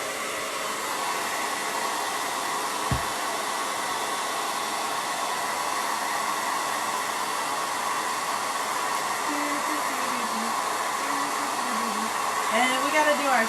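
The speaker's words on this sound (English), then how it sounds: "So let's blow dry that" A hair dryer blows steadily on wet paint on a wooden flamingo board. It is a loud, close, continuous whooshing hum that holds for the whole stretch, with a faint voice or tone rising briefly near the end.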